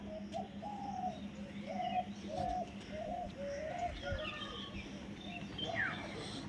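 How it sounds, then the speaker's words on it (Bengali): Pigeons on a rooftop coo in a repeated series of soft, low calls, fairly close, with faint chirps and background noise. "দেখুন কতগুলো এসেছে দেখুন।"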